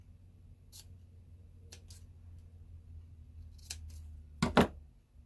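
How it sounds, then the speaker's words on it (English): Scissors trimming the fabric scarf on a wooden block snowman ornament: a few faint, quiet snips spread out, then a sharper, louder double cut near the end, close by over low background hum. "And then we'll trim his scarf."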